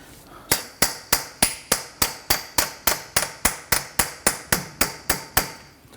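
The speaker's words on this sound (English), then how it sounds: "tapping on that CV axle now to go ahead and work that out" A hammer taps steadily on a CV axle in a 2006–2014 Honda Ridgeline 3.5L V6 front end, about twenty sharp metallic strikes in an even rhythm, close and clear, each ringing briefly.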